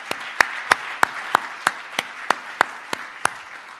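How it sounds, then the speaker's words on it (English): Slow, evenly spaced claps, about a dozen sharp hits at roughly three per second, sound alone over a quiet hall background at a food leadership conference. "Let's have a big round of applause for everybody."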